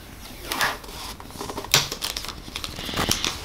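A port-cover sticker is peeled off a Mac mini 2020, giving close, crisp crinkling and tearing rustles in uneven bursts, with a sharper rip near the middle and more near the end.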